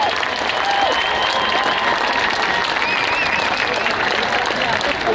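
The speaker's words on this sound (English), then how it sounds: "So give yourselves a big applause and a great big pat on the back" Steady applause from a crowd at a women's rally and march in Denver, a dense unbroken clatter of many hands, with scattered voices and faint cheers rising through it.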